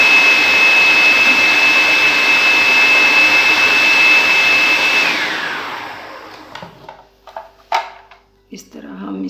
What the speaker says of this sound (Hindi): इस तरह हम इसको फाइनल ग्राइंड कर लेंगे सारे को